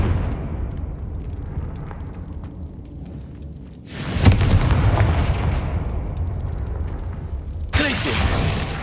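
Fiery Confringo spell blasts in Hogwarts Legacy, a heavy explosive boom bursting in around four seconds and rumbling on, with a second sharp blast near the end over steady game ambience.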